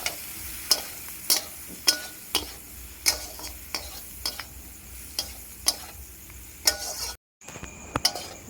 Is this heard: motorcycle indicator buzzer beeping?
no